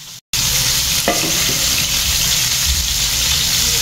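Tuna pasta sauce with cheese sizzles and bubbles loudly in a pan, a dense steady hiss close up after a brief cutoff at the start, with a faint clink partway through.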